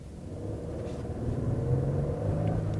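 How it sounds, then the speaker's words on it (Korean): Cabin view of a Genesis G90 accelerating up a hill: a low, steady engine and road rumble that swells gradually, with no talking. "언덕길 가속"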